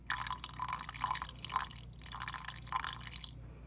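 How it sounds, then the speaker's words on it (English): Spring water trickles and drips into a sourdough starter in a few short, faint bursts of pouring, close up and quiet, with no talking. "I am going to add about 20 mils of spring water"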